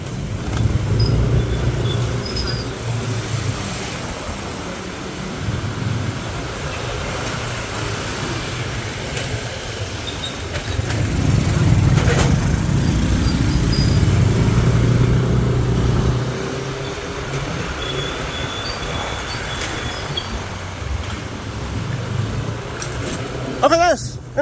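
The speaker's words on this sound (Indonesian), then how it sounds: "Naik motor guys." Motorcycle ride on a street, a steady engine drone and road noise throughout with rising engine rumble in the middle, while people talk over it.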